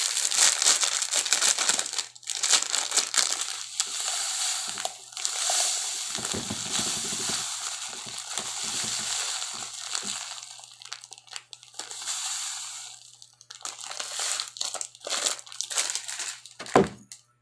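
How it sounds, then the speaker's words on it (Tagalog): Salt poured into a drinking glass gives a grainy, crinkling hiss in uneven bursts and trickles, close and fairly loud, with brief pauses and a sharp clink near the end. "itong baso natin, lalagyan lang natin ng asin."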